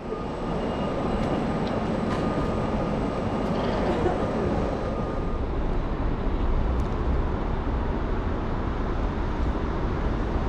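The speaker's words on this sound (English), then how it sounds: "We eventually pull into Wien Hauptbahnhof on time at 20 past 8." Passenger train arriving at Wien Hauptbahnhof, a steady low rumble with faint rail squeals and clicks that eases off slightly toward the end, heard from inside the carriage.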